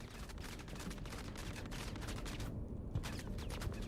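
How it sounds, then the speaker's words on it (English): Rapid gunfire in the Star Citizen video game, a dense run of sharp shots with a brief pause, then more bursts, loud and continuous. "Okay, so I gotta shoot these three guys."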